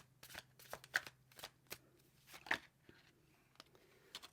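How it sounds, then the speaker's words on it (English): Tarot cards being shuffled by hand, a run of quick crisp riffling and slapping bursts spaced irregularly, close and fairly quiet, with no voice. "Let's pull some more cards."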